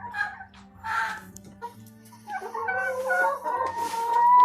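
Free-range chickens cluck and squawk close by in irregular bursts as the flock leaves the coop, several birds calling over one another above a low, steady hum.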